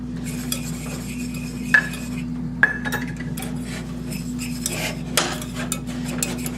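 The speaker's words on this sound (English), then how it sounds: "We're going to whisk it in" A whisk stirs flour into a roux in a pot for ham and potato soup, giving a steady scraping swish with a few sharp metal clinks against the pot. It is close and continuous, and no one speaks.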